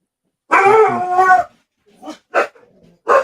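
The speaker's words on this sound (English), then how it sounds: "Even the dog in the background agrees" A dog lets out one long howl, then gives three short barks close by and loudly against silence, heard from the background of a live press conference stream.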